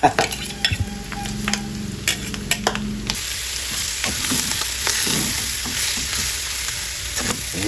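Grated santol is stirred in a hot cooking pan for ginataang santol, producing a steady close sizzle with scraping strokes of a utensil against the pan, and no talking.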